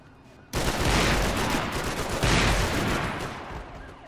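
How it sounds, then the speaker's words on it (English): Loud, sustained gun blast in Max Payne 3, a roaring burst that hits suddenly and fills the space for several seconds with a heavy, distorted wash of noise. "that's the loudest fucking shotgun I've ever fucking heard in my life"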